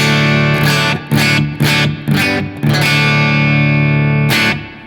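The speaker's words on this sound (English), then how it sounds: "So that's it dry, but I can switch on the spring reverb." Electric guitar chords played through an amp with spring reverb, several sharp strums in a row, each ringing out with a lingering reverb tail before fading.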